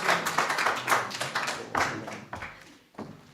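A modest round of clapping from an audience welcoming a speaker at an art exhibition and book launch, scattered hand claps that thin out and fade over a few seconds, fairly quiet.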